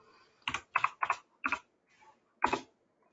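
Someone types on a computer keyboard to enter text into a chat bot, with a few close, crisp key clicks in short clusters, a brief pause, then one final tap.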